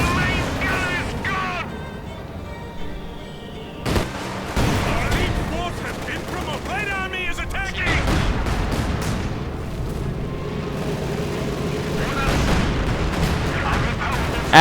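Heavy mortars and artillery fire in Company of Heroes 2, a 2v2 World War II strategy match, with repeated booming shots and explosions over dense battle noise and a commentator talking throughout.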